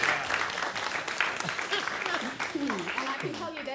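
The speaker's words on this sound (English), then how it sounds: "another please warm round of applause for Dan." An audience applauds, a dense wash of clapping that fills the whole stretch at a steady level while a speaker's voice carries over it.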